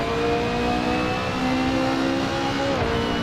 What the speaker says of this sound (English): Now full throttle again